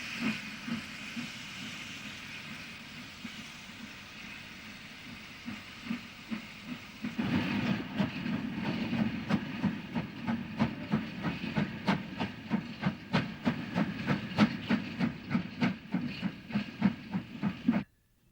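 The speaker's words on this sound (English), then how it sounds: "Government depots at one time employed many steam locos at their various locations in Britain." Industrial steam locomotive working at an RAF establishment in Farnborough, a steady hiss and rumble that builds into rapid rhythmic chuffing with sharp regular beats, fairly close, no talking.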